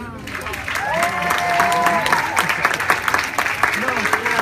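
An audience applauds for the author R.L. Stine at a meet-and-greet event, clapping rising and holding steady under a voice speaking over it.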